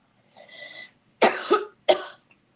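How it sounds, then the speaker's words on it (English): A couple of harsh, close coughs in quick succession, preceded by a brief throat-clearing rasp. "Oh my gosh, we're all coughing over here."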